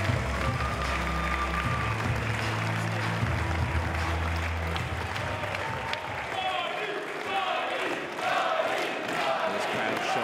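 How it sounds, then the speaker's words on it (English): A wrestling crowd at a women's match applauds and cheers, a dense wash of clapping and shouts filling the hall while voices talk over it. "This crowd showing their appreciation for the wrestling prowess of Kylie"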